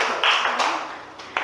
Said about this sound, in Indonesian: Tepuk tangan lu buat Sri-nya, kok udah maju ke depan.